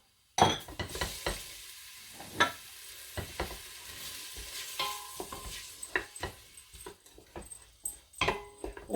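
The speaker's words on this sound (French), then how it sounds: "On fait revenir les oignons." Two large sliced onions sizzle and crackle in sunflower oil in a pan, with a sharp hiss as they hit the hot oil, then steady frying and intermittent stirring scrapes near the microphone.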